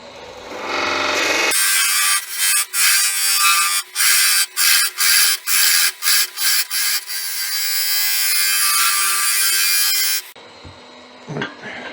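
Wood lathe spinning a shop mallet blank while a skew chisel takes a peeling cut: loud steady hissing whir with a rapid series of rhythmic chattering dips in the middle, starting and stopping abruptly, close up, no talking.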